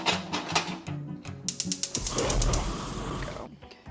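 A gas stove igniter clicks rapidly and repeatedly while failing to light, followed by a brief soft burst of noise, heard close by in a home kitchen.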